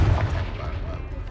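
A Confringo fire spell bursts in the video game Hogwarts Legacy, a short, loud, low boom that rolls into a fading rumble, with a voice briefly overlapping.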